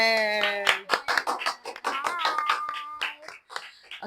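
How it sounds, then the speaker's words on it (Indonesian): Short burst of applause from a podcast studio audience welcoming guests, scattered claps mixed with cheering voices and a sung or drawn-out shout. "tepuk tangannya"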